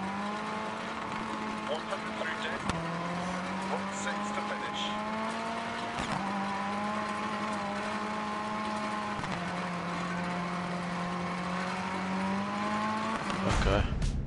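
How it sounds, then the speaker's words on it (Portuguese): A rally car in the racing game Dirt Rally drives with a steady engine drone that drops sharply at gear shifts every few seconds, rising again each time, with faint tire noise and no talk over it. "Vamos ver um carro rally."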